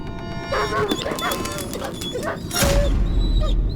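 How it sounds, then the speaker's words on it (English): A dog barks and whimpers inside the horror game Layers of Fear: Inheritance on PS5, giving several close yips and whines with a louder burst near the end over a low ambient rumble. "That dog better not be where I think it is."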